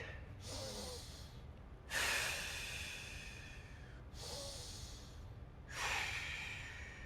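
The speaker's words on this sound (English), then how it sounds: "We're going to start our breathing." Deep, slow breaths drawn in and pushed out during a 90/90 hip mobility exercise, four long cycles of airy inhales and exhales, close and steady with no talking.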